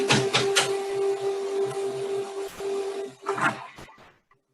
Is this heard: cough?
no